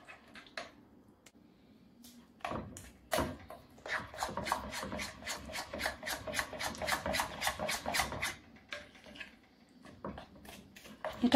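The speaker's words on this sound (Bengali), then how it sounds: "কুসুম গরম পানি দিয়ে ময়দাটা মেখে নেব।" Flour dough being kneaded by hand with lukewarm water: a run of quick, rhythmic rubbing and squishing strokes, fairly close and steady through the middle, with quieter handling before and after and no talking.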